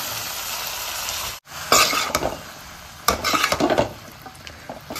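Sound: stirring noodles in a pan

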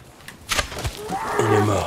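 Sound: white bison in Red Dead Redemption video game

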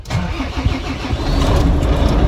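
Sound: large truck engine starting with a jump starter

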